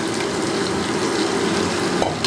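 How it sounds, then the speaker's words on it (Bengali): Egg and spices fry in a pan while cooking moong dal, a steady hissing sizzle throughout with a brief stirring clatter near the end, no talk. "ডিম আর মশলা একটু কষাই নেই"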